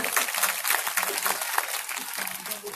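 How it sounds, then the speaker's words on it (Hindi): An audience at an evening kirtan gathering in Noida claps together, a bright, dense patter of many hands that holds steady and close for a few seconds with slight swells. "आप लोग ताली बजाइए"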